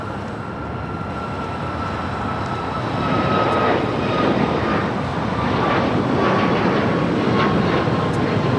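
American airliner landing and rolling down runway 25 right at LAX, a continuous loud engine rumble and roar that swells slightly midway and holds steady, with a faint whine above it and no talk.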